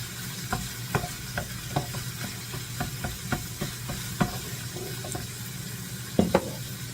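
Ground meat for Sloppy Joes sizzles in a pan as a utensil breaks it into crumbles. The steady frying hiss is punctuated by regular scraping taps and knocks.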